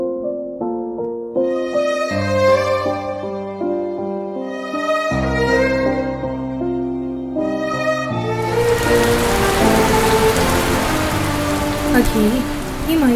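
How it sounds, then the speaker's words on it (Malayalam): Steady rain pours down with a broad hiss, starting partway through under soft background music and continuing loud to the end. "ഈ മഴയൊക്കെ കാണാൻ എന്ത് രസമല്ലേ."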